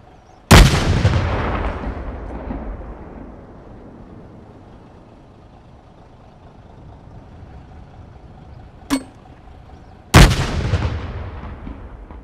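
Two heavy explosion sound effects from a game audio demo in Unreal Engine 5, each a sharp booming hit with a long rumbling decay, separated by a brief quieter click, otherwise near-silent.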